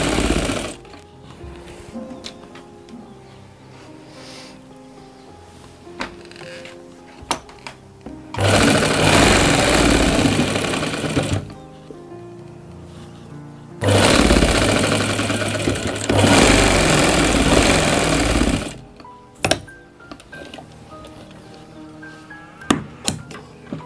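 A sewing machine stitches a gent's pajama in two long, loud runs of steady mechanical whirring, with quieter handling clicks and pauses between and after the bursts.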